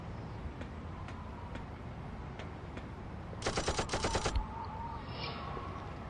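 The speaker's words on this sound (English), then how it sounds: "I'm firing off machine guns here" Video game Urban Chaos: a rapid burst of machine gun fire lasting about a second, loud and sharp against quieter in-game background sound.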